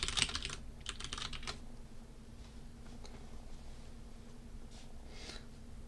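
Rapid bursts of typing on a computer keyboard, a quick cluster of keystrokes near the start followed by sparser, fainter clicks over a low steady room hum.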